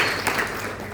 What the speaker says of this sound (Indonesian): Kasih tepuk tangan yang meriah bagi Tuhan Yesus.